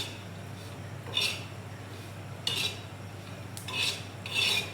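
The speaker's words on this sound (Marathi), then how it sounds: "बघा आपल्याला सतत मिरची अशी हलवत सगळ्या बाजूनी भाजून घ्यायची बघा।" Green chilies dry-roasted without oil in a pan, stirred constantly: a faint background hum with several soft scraping, rubbing bursts from the stirring, spaced a second or so apart.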